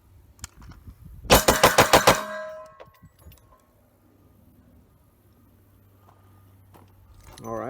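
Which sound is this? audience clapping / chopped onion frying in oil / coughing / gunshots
gunshots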